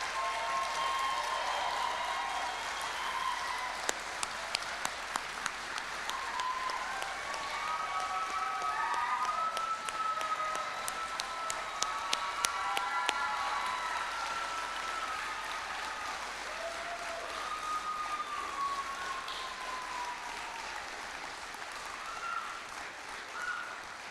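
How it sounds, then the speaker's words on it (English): Sustained, moderately distant audience applause at a fire service training class ceremony, a broad bed of clapping with scattered sharper individual claps and cheers that carries on through the whole stretch. "let's give them a huge round of applause."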